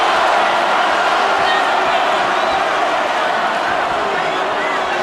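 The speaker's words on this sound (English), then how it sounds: "The crowd is now chanting for Tarver." Boxing arena crowd at a Roy Jones Jr. versus Antonio Tarver bout, a dense, loud, continuous roar of many voices that sounds like sustained chanting, steady throughout with no pauses or distinct individual voices.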